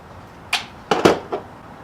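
A suppressed .22 rifle firing CCI subsonic 45 grain ammunition: a few short, sharp cracks and clicks in quick succession, close by, with no talk.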